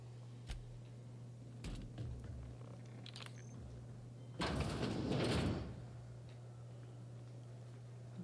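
A sliding door opens in The Outer Worlds video game with a loud whooshing hiss lasting about a second. Scattered clicks and a constant low hum surround it.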